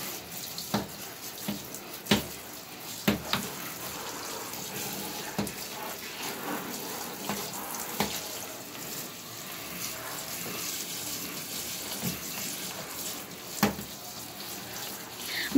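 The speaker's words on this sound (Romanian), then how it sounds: "o să pornesc apa." Shower water runs steadily over potted orchids being rinsed, a continuous close hiss of spray with occasional splashes and small knocks, no speech.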